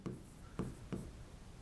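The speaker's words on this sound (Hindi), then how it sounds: "यहां पर मैं लिखता हूं" Chalk or marker strokes on a classroom board, three short scratchy taps about half a second apart, quiet and close, with no voice over them.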